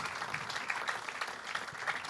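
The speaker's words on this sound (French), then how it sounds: "Dame Charlotte et Stéphanie, vous pouvez les applaudir." Live comedy-show audience applauding steadily in a theatre, a continuous, fairly faint wash of many hands heard from a distance without any speech over it.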